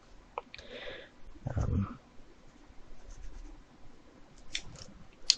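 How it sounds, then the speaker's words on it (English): A pen sketches on paper, giving soft scratchy strokes in short bursts with quiet pauses between, close and faint, plus a brief rustle partway through. "So I'm going to like sketch with a pen."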